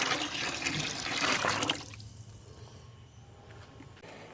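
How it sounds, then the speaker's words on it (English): Water pours from a pitcher into the water pan of a smoker, a close, loud splashing gush for nearly two seconds that then tapers into quieter trickling and dripping. "Okay, I'm going to put some water in this water pan."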